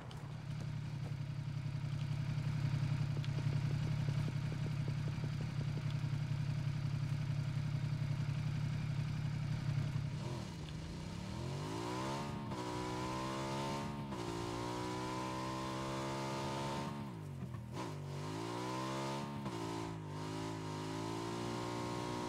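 Motorcycle engine driven in a battle royale video game, a loud continuous engine drone that rises and falls as it revs up repeatedly through gears, with no talk.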